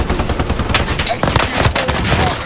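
Video-game gunfire in a multiplayer shooter, dense bursts of rapid automatic shots and scattered single cracks that crowd the whole moment loudly, with a player's voice shouting over the shooting.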